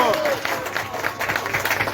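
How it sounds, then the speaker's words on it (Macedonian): Audience applause at a wedding celebration, a short burst of clapping and crowd noise mixed with cheering voices. "Ајмо аплауз, ајмо."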